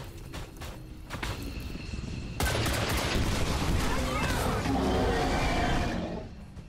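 Gunfire in the XCOM 2 video game: a few scattered shots, then a dense burst of rapid automatic fire and impacts that roars steadily for several seconds before fading.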